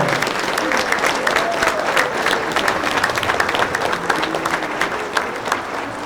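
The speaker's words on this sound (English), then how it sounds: "Can we get one more round of applause for both of our teams inducted this year?" Sustained applause from an audience at a hall of fame induction ceremony, a dense steady clatter of clapping that lasts throughout with a faint crowd murmur beneath.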